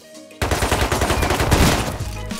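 Gunfire in the survival game Rust, a sudden rapid burst of loud close shots in quick succession after a brief quiet lead-in.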